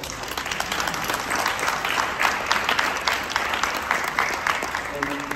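An audience at an award presentation breaks into sustained applause, many hands clapping steadily at a moderate distance, with the sound fading toward the end.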